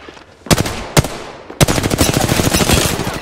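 Gunfire in the video game Apex Legends: two sharp single shots, then a long rapid burst of automatic fire, loud and close, each report crisp and evenly spaced.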